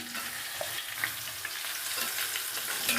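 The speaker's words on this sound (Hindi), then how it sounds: "5-7 मिनट के लिए भून लेंगे, ताकि जो मैंने ये इसके अंदर लहसुन और अदरक डाला है" Young desi chicken fries in a pot with garlic and ginger, giving a dense, steady sizzle with crackles and small pops close up throughout.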